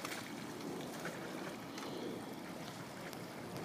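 Water rinsing calcium deposits off swimming pool tile: a steady broadband hiss of spraying, splashing water throughout, fairly quiet and even, with no voices.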